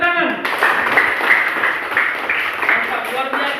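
A classroom of students clapping together after a group presentation, a brisk, fairly loud patter of hands following a short rising tone at the start, with faint voices mixed in.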